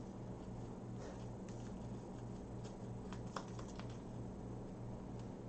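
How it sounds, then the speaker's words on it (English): Cards are shuffled for a tabletop game, a faint rapid riffling patter over quiet background hiss, with a sharper click midway. "I am shuffling."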